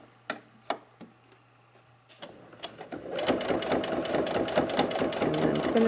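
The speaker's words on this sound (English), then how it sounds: "And then finish sewing up to the end" A home sewing machine stitches a zipper pouch, starting with a few sparse ticks and clicks before running into a close, steady rapid whir of needle strokes over the last half.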